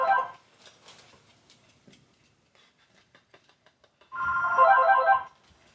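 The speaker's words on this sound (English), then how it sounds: "Oh darn! I didn't get to the phone in time." A telephone rings indoors in two separate bursts, one brief at the start and a longer ring near the end, with quiet ticking and small clicks in between.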